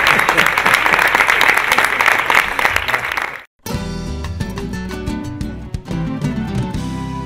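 Studio audience applause on a television program fills the first few seconds, steady and dense, then cuts abruptly to music.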